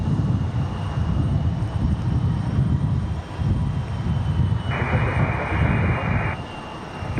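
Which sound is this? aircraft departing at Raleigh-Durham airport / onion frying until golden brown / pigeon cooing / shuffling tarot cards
aircraft departing at Raleigh-Durham airport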